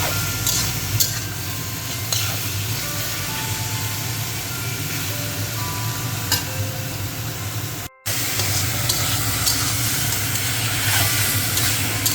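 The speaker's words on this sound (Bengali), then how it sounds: "মাছগুলো দিয়ে দিচ্ছি এগুলোকে এখন ভাজা করে নেব পেঁয়াজের সঙ্গে" Fish frying with onions in a pan for a kanla fish recipe, giving a steady, close sizzle and hiss that runs throughout with a brief dropout near the middle.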